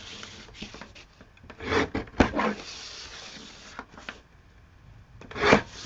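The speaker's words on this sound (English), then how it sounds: "I think I'm going to just trim this off." An old art journal page is trimmed down to a 4x6 postcard, giving scattered dry rasping and rubbing strokes with a few louder scraping bursts, close and alone.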